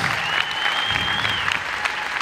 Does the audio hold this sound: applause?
yes